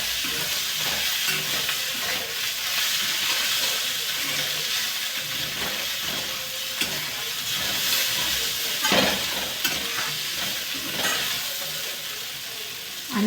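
Chopped onion and bitter gourd fry together in plenty of oil in a pan, a loud continuous close sizzle and hiss with a few stirring scrapes and bursts, no voices.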